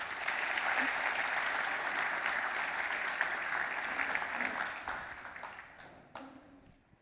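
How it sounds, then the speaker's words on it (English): Conference audience applause for a speaker at a data engineering event in Sydney, a sustained burst of clapping from a room crowd that gradually fades out. "can we maybe just have one final round of applause for Lizzie?"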